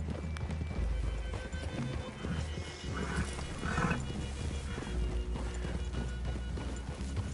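Horses' hooves clip-clopping in the video game Red Dead Redemption 2, a steady busy patter of hoofbeats under continuous outdoor ambience at moderate volume.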